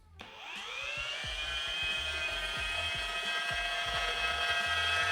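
A polisher fitted with a thick damp wool pad spins up on car paint at speed 1, a steady whirring whine that rises at the start and then holds loud and constant, with faint rhythmic thumps beneath.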